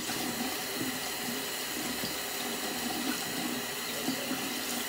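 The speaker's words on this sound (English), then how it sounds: "You want to rinse it off." Running water rinsing a small stuffed animal under a tap, a steady, close, full splashing rush that continues without pause.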